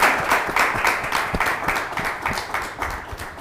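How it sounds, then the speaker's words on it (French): Studio audience applauding a guest arriving on a French talk show, a dense, lively burst of clapping that stays strong throughout with a few rhythmic clap accents. "ça s'applaudit"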